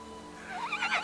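A horse whinnies in the video game Windstorm - Ari's Arrival, a single loud, close, wavering neigh rising over a quiet background hum.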